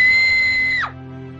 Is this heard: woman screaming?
yes